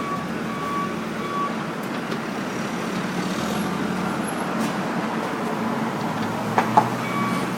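A work truck's engine rumbles steadily at close range alongside a backhoe on a job site, with a steady low drone, a faint intermittent high beep, and a couple of small knocks near the end.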